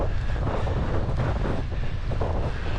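Steady, roaring wind buffets the microphone as a bicycle climbs a hill at Buckstones into a fierce, cold northeasterly headwind on Christmas Day. The gusting rumble is loud and continuous throughout, with no voices.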